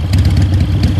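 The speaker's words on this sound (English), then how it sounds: "Cut the engine. They'll hear us." A motorcycle engine idles in the Metal Gear Solid 3 video game, a steady, loud, low rumble with a faint clatter running through the whole short moment, and no voices.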